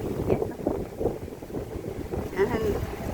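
Wind buffets the microphone at a seated outdoor stop, a steady broadband rush swelling in gusts under a few scattered voices and faint clinks.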